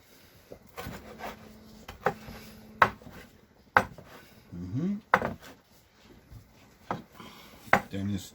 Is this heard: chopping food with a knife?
yes